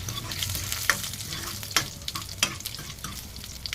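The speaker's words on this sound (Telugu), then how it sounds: "కలిపిస్తూ కలిపి వేగిచ్చి వేగుతూ ఉండాలి కొద్దిగా" A cluster-bean fry sizzles in a pan while a spoon stirs it with repeated sharp scrapes and clinks over a continuous crackling sizzle, close and fairly loud.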